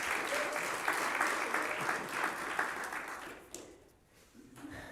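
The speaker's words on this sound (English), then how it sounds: "Please give him a round of applause." An audience claps for guest Dr. Ken Pollock at an evening event at Temple Israel, a dense wash of applause that fades out near the end of the few seconds.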